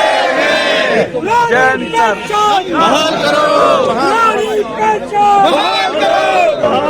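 A large crowd at a pension protest rally roars and chants together, loud and continuous voices rising and falling in waves with shouted slogans throughout.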